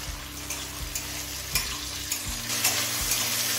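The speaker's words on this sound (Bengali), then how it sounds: "এবার টমেটো নরম হয়ে আসা পর্যন্ত ভেজে নেব।" Tomatoes fry in a pan during cooking of a vegetarian Gobindobhog rice khichuri, giving a steady close sizzle with a few stirring knocks and scrapes, no voices.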